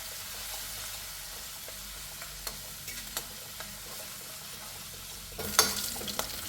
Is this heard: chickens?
no